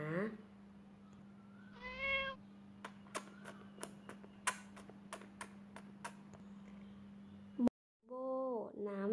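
A kitten meowing in a few distinct calls, near and clear, separated by a steady low hum and light ticking clicks, with speech-like voicing around the meows.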